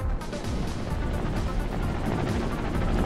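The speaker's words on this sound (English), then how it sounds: "We got our cannon action." Cannon fire from a custom-built walker vehicle in a workshop building game: a dense, continuous barrage of rumbling blasts with rapid repeated hits, steady and loud throughout.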